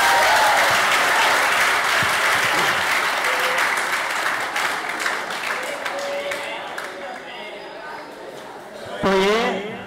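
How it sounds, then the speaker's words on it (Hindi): Loud applause from an audience of students at a coaching class interaction, steady dense clapping with crowd chatter throughout, fading slightly toward the end before a brief voice cuts in. "तालियां हो जाए सबके लिए"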